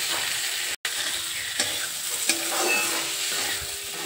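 Boiled ridge gourd goes into a cooking pan and is stirred, giving a soft continuous sizzle with a few scraping stir sounds and a brief dropout, close by and without voices.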